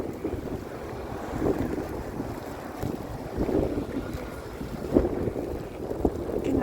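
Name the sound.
strong wind after snowstorm in Toronto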